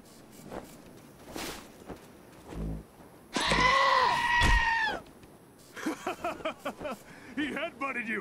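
A goat in Wasteland 2 headbutts a character: a thump lands among loud bleating cries and scuffling, with people talking before and after.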